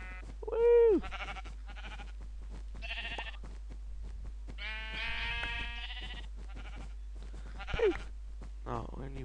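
Blocky Minecraft sheep bleat in a video game, two short distinct bleats, one early and one near the end, heard over near-constant talking and game sounds.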